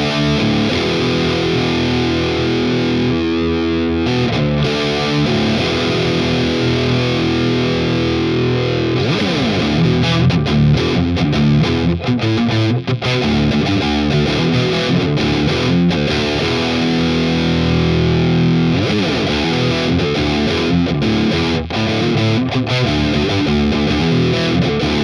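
An electric guitar plays through a Fryette LXII power amp set flat, with no depth or presence, in a noisy studio. It is loud and distorted, with strummed chords and riffs sustaining continuously and no voice over it.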